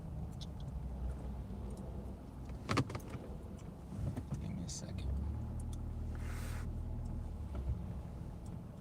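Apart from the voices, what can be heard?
car engine as the speaker pulls out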